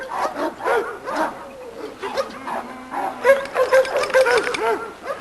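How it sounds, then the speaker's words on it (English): Several red dogs with black masks in a breeding yard bark and yip in quick, uneven bursts with whimpering, close and fairly loud, continuing throughout. "Got some red dogs with black mask."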